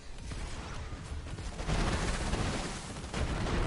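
Zane's weapons in Borderlands 3 fire in a dense, continuous volley of gunfire with booming impacts, loud and close, with no voices.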